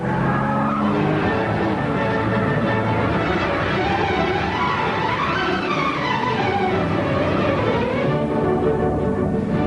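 A works-prepared Aston Martin DB7 skids across a wide open airfield with traction control off, tires squealing continuously over a loud engine roar as the car slides and powers through turns.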